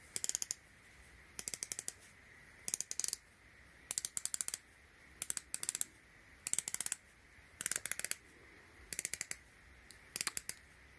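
A Tissot Seastar 1000 Powermatic 80 40mm dive watch bezel turns in repeated short bursts of crisp ratcheting clicks, close and quiet, with brief silent pauses between the bursts.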